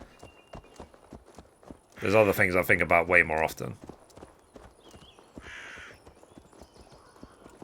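Horse hooves clip-clop in Assassin's Creed Valhalla, a steady run of light, even taps across the whole stretch, partly buried under someone talking in the middle.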